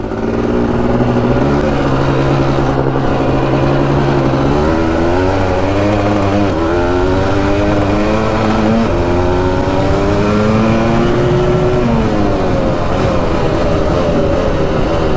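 A Suzuki LT500 quad runs lean while ridden, its engine revving up and down in rising and falling pitch sweeps, loud and close throughout with gear-like shifts and no talking.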